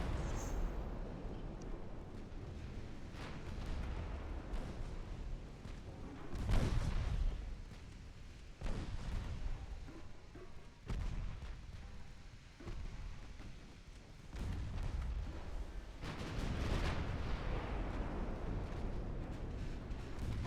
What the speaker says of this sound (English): All of you guys need to fire your main guns at that.